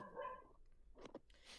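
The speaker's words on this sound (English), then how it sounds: "Whose dog is barking?" A dog barks in the background of an online Dungeons & Dragons session. A few short, muffled barks come over a voice chat line, moderately loud but indistinct.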